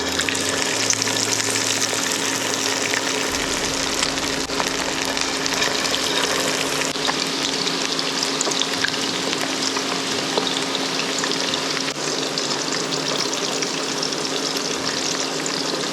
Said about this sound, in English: You want to deep fry the pork chops for about 5 to 10 minutes